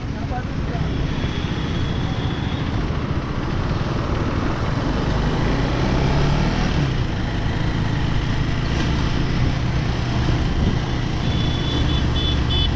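A KTM 390 Adventure motorcycle rides through city traffic, its engine and road noise forming a loud, steady rumble, with other passing vehicles blending in throughout.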